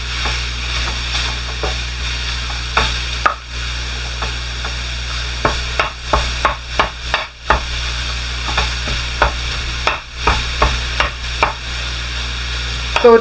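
Coarse-ground Italian sausage sizzles loudly in a pan while a utensil scrapes and stirs in an irregular series of clacks and scrapes, with no talking.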